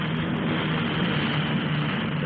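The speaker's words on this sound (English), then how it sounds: "The power goes on to the rotor tips, and the big airliner becomes again a hover plane." Steady, loud engine roar of a compound helicopter airliner at the 1958 Farnborough SBAC flying display, a continuous unbroken drone with no talk over it.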